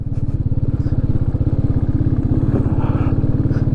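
A loaded motorbike rides a broken, landslide-damaged mountain road between Birgunj and Kathmandu in Nepal, its engine thumping in a loud, rapid, steady rhythm close by, with scrapes and rattles from the rough surface.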